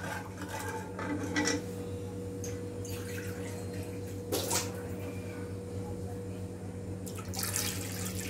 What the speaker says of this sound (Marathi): 2 कप पाणी घालते.